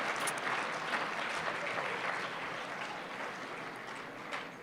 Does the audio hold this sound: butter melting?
no